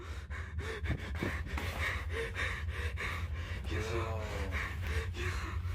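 Heavy, ragged breathing fills the clip, close and loud, with repeated sharp gasps, pants and snorts in an uneven rhythm. Faint vocal sounds mix in with the breaths.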